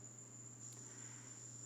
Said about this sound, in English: I'm speaking to you this evening from my back deck, in the midst of my forest with the cicadas and the trees and the birds singing.